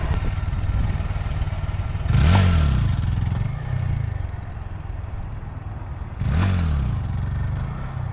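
A Honda Grom motorcycle idles steadily at a standstill during wheelie practice, with two sharp revs surging up and easing back down, close and loud.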